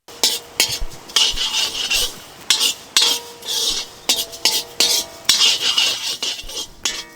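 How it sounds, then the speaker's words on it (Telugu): White sesame seeds roast in a pan over a low flame, stirred in quick repeated scraping and rattling bursts with short pauses, close and fairly loud, with no voices. "తెల్ల నువ్వులు ఇవి కూడా చక్కగా సన్నమంట మీద వేయించుకుని పక్కన పెట్టుకుందాం"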